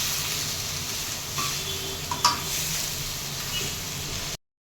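Potato dosa masala with boiled potatoes being stirred and frying in a pan, a steady close sizzle with a few scraping clinks of a spoon against the pan, ending abruptly.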